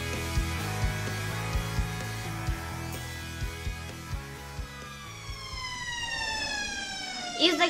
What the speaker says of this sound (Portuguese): esse sinal, ele é bem alto pra pegar em toda a escola